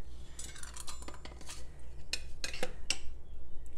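A utensil mashes dried cleavers soaked in grapeseed oil inside a container, producing a series of irregular clinks, scrapes and knocks at close range.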